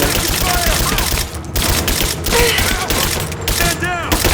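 Bursts of automatic gunfire crackle continuously in a Tomb Raider combat firefight, dense overlapping shots with brief pauses and scattered impacts, loud and close, with faint shouting voices mixed in.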